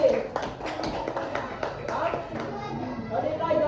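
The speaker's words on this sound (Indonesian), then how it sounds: "Tepuk tangan untuk teman-temannya." Children in a classroom clapping hands, a loose scattering of claps that rises and falls under a child's and a teacher's voices speaking nearby, moderately quiet.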